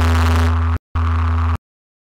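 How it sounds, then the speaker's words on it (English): A heavily distorted sine-wave synth bass from Serum, drum-and-bass style, plays two loud, buzzing sustained notes, each under a second long and separated by a brief gap, before cutting to silence. "Then we also have a very distorted sine wave."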